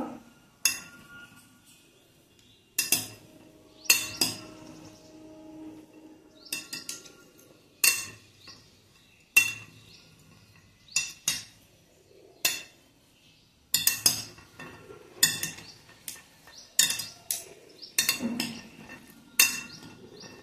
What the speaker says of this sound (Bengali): এখন সব কিছু আমি একসঙ্গে মিক্সড করে নেব।